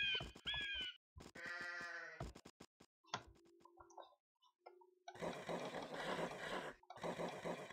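Repeated bleats from a sheep in Age of Empires II ring out in short bursts amid clicks and game effects, followed by a dense stretch of noisy sound.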